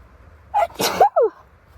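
A single sneeze, close and fairly loud, with a sharp intake and burst followed by a short trailing vocal sound, then quiet.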